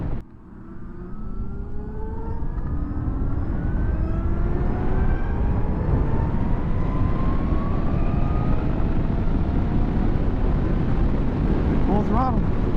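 Electric motor whine of a 2023 Zero DSR motorcycle at full throttle, rising steadily in pitch over heavy wind rush, continuous and close throughout.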